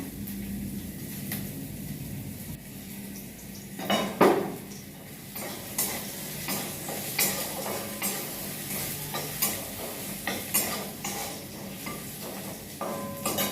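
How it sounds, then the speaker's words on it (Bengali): Ginger and garlic fry in a pan for a tarka, giving a steady close sizzle broken by repeated metallic clinks and scrapes of a spoon stirring against the pan, with no talking. "এই আদাটা রসুনটা একটু ভাজা ভাজা হয়ে গেল"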